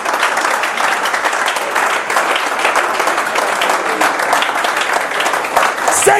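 A church congregation applauds the Lord during a French-language evangelical sermon, with dense, sustained clapping that fills the room steadily from start to finish and a few voices mixed in.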